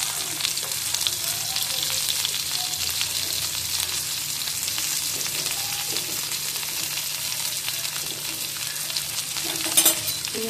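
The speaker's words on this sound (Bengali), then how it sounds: "কালো জিরে ফোড়ন দিয়ে পেঁয়াজগুলো ছেড়ে দিচ্ছি।" Onions frying with nigella seeds in mustard oil for a cabbage bharta, a continuous close sizzle and crackle with occasional stirring, steady throughout.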